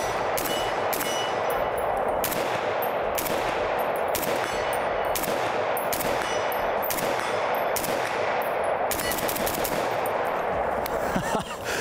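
A SCAR 17S rifle in 7.62 NATO fires down range in a steady, rapid run of sharp, loud reports for around twelve seconds, each crack trailing off with a ringing metallic clang.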